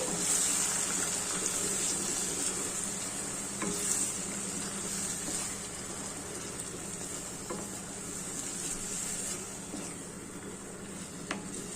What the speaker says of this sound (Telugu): బాగా వేయించుకోండి నూనెలో పైకి రావాలండి ఆయిల్ అనేది